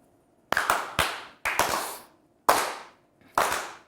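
Sparse, slow, deliberate claps, about seven or eight sharp hand claps spaced out with gaps between them, close and dry, a small sarcastic round on a word game show set.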